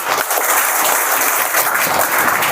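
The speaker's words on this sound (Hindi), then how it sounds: "तो तालियां बजा दो सर के लिए" An audience at a motivational seminar applauds in a loud, sustained burst of clapping that fills the whole moment.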